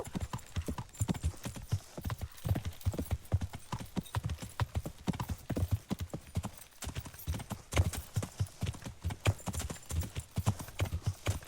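Steady clip-clop of horse hooves at a walking pace in the video game Kingdom Come: Deliverance, close and rhythmic, continuing throughout with faint background ambience.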